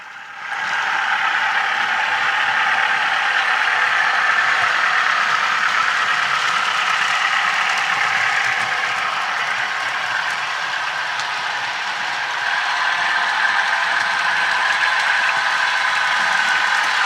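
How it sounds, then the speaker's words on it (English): An Intermountain model U18B locomotive with an 8-cylinder diesel sound gives a steady, continuous clatter and rumble as it runs around the tracks, holding an even loudness throughout with no talking. "you can't help but love that 8-cylinder clatter as this engine comes around the tracks"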